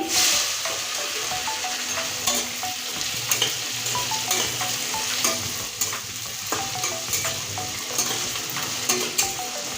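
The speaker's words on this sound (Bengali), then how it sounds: "এবার পেঁয়াজটা লাল করে ভেজে নেব" Chopped onion sizzles in hot oil in a pan for a ghugni, with salt added, as it fries toward brown. A steady close frying hiss runs throughout, broken by frequent scraping stir clicks and light clinks.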